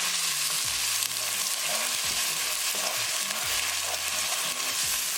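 Onion sizzling loudly in hot oil with garlic and green chili paste, a dense steady hiss of frying with occasional stirring scrapes, close and continuous, no voice.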